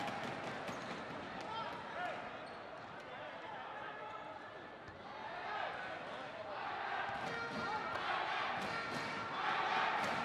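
Crowd cheering and roaring in an indoor stadium during a Gilas Pilipinas versus Thailand basketball game, a dense continuous swell that grows louder toward the end, with an announcer talking over it.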